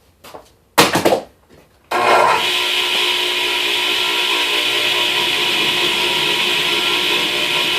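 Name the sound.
table saw ripping plywood along fence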